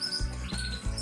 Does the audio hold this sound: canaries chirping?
yes